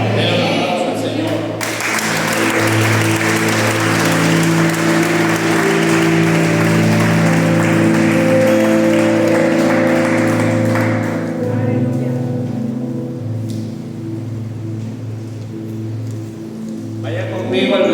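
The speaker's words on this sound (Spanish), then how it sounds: "Den un aplauso al Señor." A church congregation claps together during a Spanish-language sermon, a loud, sustained patter of many hands over sustained musical tones, which fades near the end as the music drops away.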